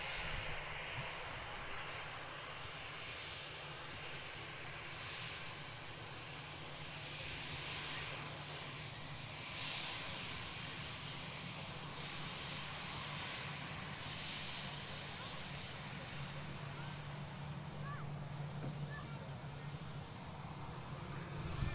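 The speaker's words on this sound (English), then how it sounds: "EasyJet Neo on the taxi on the rollout now." Jet engines of an EasyJet Airbus A320neo airliner rolling out at Manchester Airport, a steady broad roar held throughout at moderate distance with no voices.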